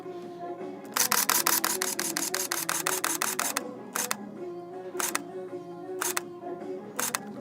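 Camera shutter firing a continuous burst at six frames per second, a rapid train of crisp clicks for about two and a half seconds, then a few single isolated shots, close to the mic.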